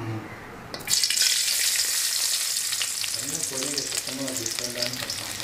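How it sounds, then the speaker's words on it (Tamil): Cut garlic cloves for veg fried rice going into hot oil: a sudden loud sizzle erupts about a second in and keeps crackling steadily with light stirring, close and continuous, no talking. "ஆயில் நல்லா சூடாயிடுச்சு. இப்போ நம்ம கட் பண்ணி வச்சுருக்க பூண்டு பல் வந்துட்டு சேர்த்துக்கலாம்."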